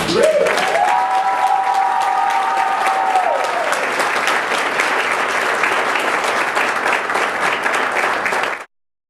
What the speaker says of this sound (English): Ladies and gentlemen, can I have another round of applause?